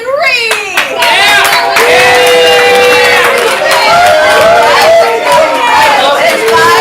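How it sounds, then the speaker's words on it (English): A live comedy improv audience claps and cheers loudly and continuously, with shouts and excited voices mixed into the dense crowd noise. "Everyone else, you can clap and cheer and try to influence the judges"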